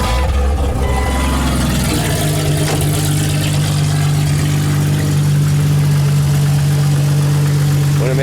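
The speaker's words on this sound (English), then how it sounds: "You're going to want to hear what the motor sounds like" A Jeep Cherokee XJ engine idles close by with a steady, low droning hum after a brief rev at the start, running evenly throughout.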